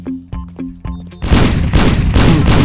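Pistol gunfire in the stealth video game Sneak Thief, a few sharp isolated clicks and shots at first, then a loud sustained burst of rapid, booming gunfire filling the rest of the moment.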